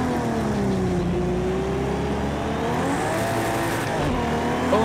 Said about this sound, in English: Unleash that V12.